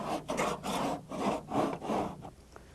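Cheese grater rasped over partly cured Bondo body filler on a car panel, in five or six steady back-and-forth scraping strokes that come close and clear with no talk.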